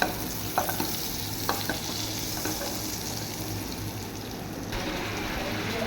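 Chicken tandoori frying in butter and refined oil in a frying pan, a steady close sizzle with a few scrapes and stirring knocks, no voices.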